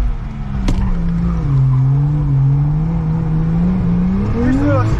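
Engine of a Volvo running with a hole in the block, heard from inside during a friend's ride: a steady loud drone with slowly rising and falling pitch, continuous throughout, with a brief click near the start.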